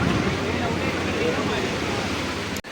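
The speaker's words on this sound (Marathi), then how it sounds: "लाटा जोरात चालू आहे." Strong sea waves breaking at a Mumbai beach, a continuous loud rushing surf roar with wind, cut off abruptly at the end.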